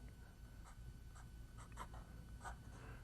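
Pencil drawing a tree on watercolour paper: soft, repeated scratchy strokes at close range over a steady low background hum, with no voices.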